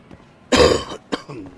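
A gamer coughs once, a loud harsh burst, followed by a shorter second cough and faint throat sounds, close and alone with no talk.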